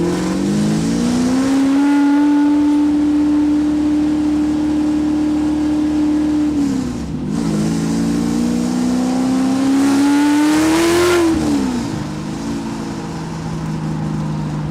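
A raw-sounding V8 car accelerates hard from close inside the cabin, its engine note climbing steadily, dipping briefly at a gear change around seven seconds, then rising again loud and sustained before easing off.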